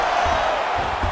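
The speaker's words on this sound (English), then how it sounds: "So the crowd absolutely loving it as these fighters work their way back to the feet" Arena crowd roaring and cheering during a UFC 5 video game bout, a steady dense wash of noise filling the whole moment without a break.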